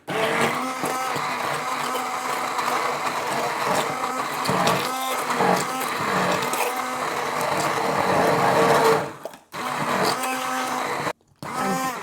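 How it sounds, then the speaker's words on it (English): A blender blitzes raspberries with raspberry wheat beer, a loud steady motor whir running almost twelve seconds, briefly cutting out twice near the end before starting up again. "now we're going to blitz the raspberries up with some of this gorgeous beer, ready to go in the mixture"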